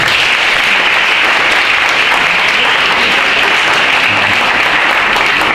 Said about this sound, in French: Je vous demande d'applaudir le colonel Février de la Gendarmerie nationale et professeur de l'ISC Paris